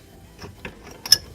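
A plastic nut being loosened under a Delta Valdosta faucet, giving a few sparse close clicks and ratcheting ticks with a sharper snap near the end, with no talk.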